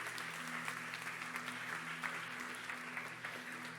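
A church congregation applauds during a Spanish-language sermon, a steady, dense wash of many hands clapping that holds evenly throughout over a faint electrical hum.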